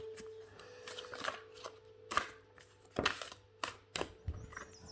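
A deck of oracle cards shuffled for a card reading, up close in a quiet room, with soft irregular riffles and sharper snaps coming in uneven bursts and no voices.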